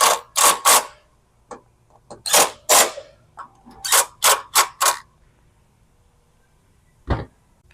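A ratchet tightens bolts, snugging up the rear ones, in several quick bursts of rapid close clicking separated by short pauses, with a single sharp click near the end.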